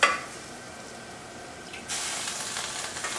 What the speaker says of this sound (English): You can see we're getting to we're starting to get to a boil.